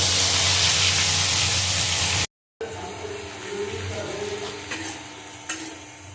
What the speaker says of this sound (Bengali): পেঁয়াজটা এইভাবে একটু ভেজে ভেজে নেব